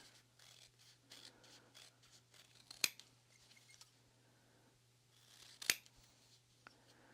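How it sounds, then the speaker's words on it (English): Scissors trim the seam allowance on fabric for a beach bag, making two sharp, distinct snips against a quiet background with faint handling noise. "we just want to trim away the seam allowance slightly"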